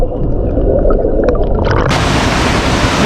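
Karithodu waterfall in Idukki roars loudly and close by in a dense, unbroken wash of falling water with a gurgling edge.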